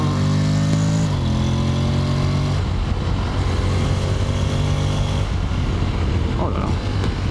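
A Honda X-ADV 750 scooter's engine accelerating in second gear on the road, a loud close drone with rising and shifting pitch under steady wind rush while someone talks over it.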